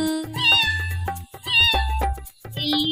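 Three meows sound in the middle of a Hindi children's rhyme, drawn out and tonal and evenly spaced over a musical backing, probably sung or voiced as cat imitations rather than a real cat.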